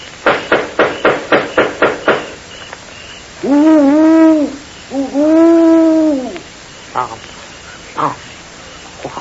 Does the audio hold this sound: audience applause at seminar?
no